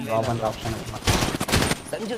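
Rapid gunfire sounds in an online multiplayer shooter game about saving an alien from police. Dense bursts of shots crackle in the middle of the clip, loud and close, mixed with players' voices.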